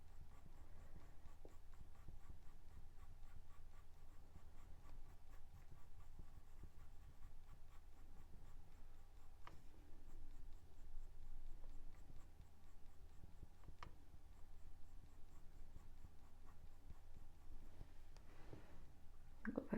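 Small pencil scratching steadily on paper while shading fine fur texture in a close, quiet continuous drawing sound with a few sharper ticks, no talking.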